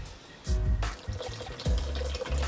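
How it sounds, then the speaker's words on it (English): Coconut water is poured into a smoothie blender for a detox smoothie, making a close splashing, gurgling pour in uneven bursts with no voices. "So I'm going to add about 1 cup of coconut water."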